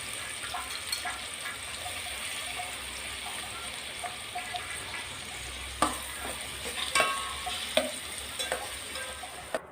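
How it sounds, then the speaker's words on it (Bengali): Chopped onions frying in oil in a pan make a continuous close sizzle, joined toward the end by several stirring scrapes and clatters against the pan. No one talks. "চারটা পেঁয়াজ কেটে নিয়েছি, ওগুলো দিয়ে দিলাম। এগুলোকে ভেজে হালকা নরম করে নিব।"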